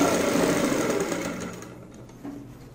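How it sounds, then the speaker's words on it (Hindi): A sewing machine stitches over the elastic waistband of pleated palazzo pants, running in a steady close whirr that gradually slows and fades out, followed by a brief light tap. "अब हम प्लास्टिक के ऊपर सिलाई लगा रहे हैं"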